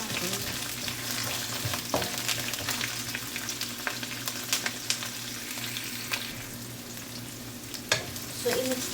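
Spring onion and onion stirred together in a hot frying pan for noodle soup, a steady close sizzle broken by repeated scrapes and knocks of the spatula against the pan.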